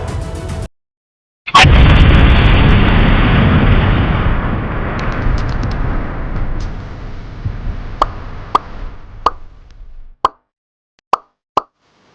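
An atomic bomb explosion sound effect: a sudden massive boom swells into a deep, roaring rumble that fades over several seconds, followed by a few sharp, isolated pops.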